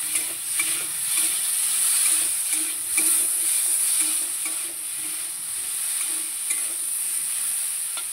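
Mukhi kochu (taro) frying in a pan with chili powder, a close continuous hiss and sizzle broken by soft stirring scrapes, with no voices.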